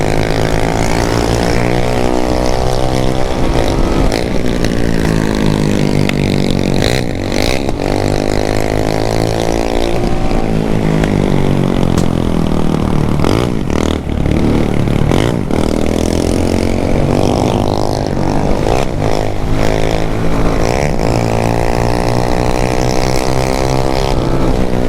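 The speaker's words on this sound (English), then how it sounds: "Bomba, the bike nearly slided from me." A 250cc ZAMCO motorcycle ridden at night on a Jamaican road, its engine droning loud and close throughout with rising and falling revs as it accelerates and eases off.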